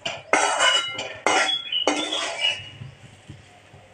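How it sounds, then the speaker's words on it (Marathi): Okra coated in gram flour is stirred in a metal pan, giving a few sharp clinks and scrapes of a spoon against the pan in quick bunches, then a softer rustle as the stirring fades. "तर छान आपण परतून घेऊया."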